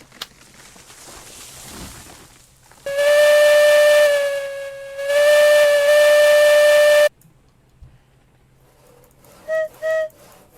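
A steam locomotive's whistle blows loud and close on a coal-fired railway, one long blast broken by a brief dip, then silence and two short toots near the end.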